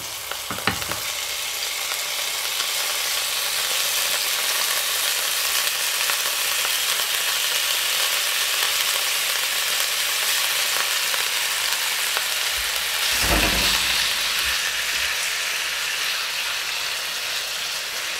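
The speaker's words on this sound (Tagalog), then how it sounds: "Lutuin po muna natin yan hanggang ma-fried." Chicory sizzling in a frying pan, a loud continuous crackling fry throughout with a couple of brief scraping stirs near the start and again about two-thirds through.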